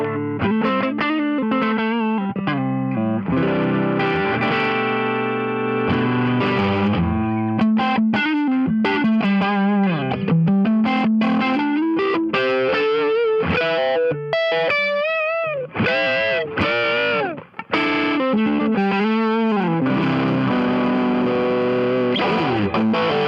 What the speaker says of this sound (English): So we've got the dirty channel on the amp happening.